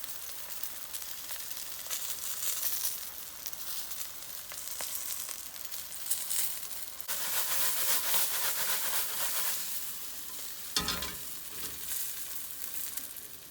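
Shishito peppers sizzle and sear in a hot pan, a steady close crackling hiss with brief louder bursts of spitting as they are stirred.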